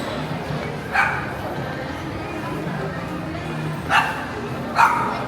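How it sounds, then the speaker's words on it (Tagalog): Several dogs bark at an outdoor Mother's Day gathering, with three sharp yips spaced a few seconds apart over a steady background of people chatting. "Daming aso."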